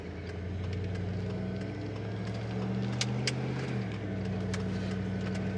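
A pickup truck's engine idling through a newly fitted aftermarket exhaust, a steady low rumble with a slight rise in revs midway, heard up close without speech.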